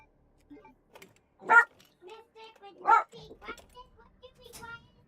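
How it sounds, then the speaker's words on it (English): A dog barks in two loud, close bursts, with softer yips, whimpers and quieter sounds in between. "That dog's never quiet."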